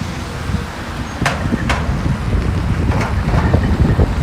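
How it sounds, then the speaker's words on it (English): Strong wind beside the Fontanka River in St Petersburg, a loud continuous rumbling gust on the microphone with faint street and traffic sounds beneath and a couple of brief sharp clicks. "it's windy here because we're actually next to Fontanka River there"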